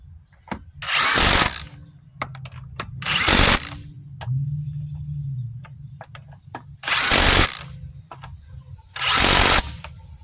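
An impact gun drives hub bearing bolts on a 2006 Dodge Grand Caravan during a rear hub bearing replacement, with four loud rattling bursts of about a second each separated by quiet pauses and small metallic clicks.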